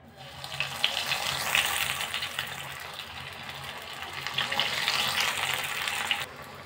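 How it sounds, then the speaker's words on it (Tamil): Soya cutlets frying in hot oil, a steady loud hiss and crackle of sizzling that holds evenly for several seconds before cutting off abruptly near the end, with no talking. "எண்ணெயில் பொரிச்சு எடுத்துடலாம்."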